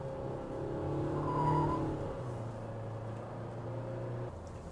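A Nissan Qashqai 1.6 diesel with automatic transmission hums steadily while driving, a low, quiet engine drone with road noise that swells gently then settles, heard from inside the cabin.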